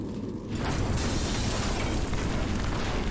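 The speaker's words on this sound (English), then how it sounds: "a massive explosion swallows everything" A massive, sustained explosion roars up after a brief quieter moment, a dense rumbling blast that fills everything and keeps booming.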